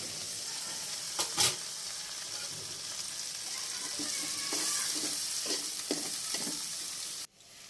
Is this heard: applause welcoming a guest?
no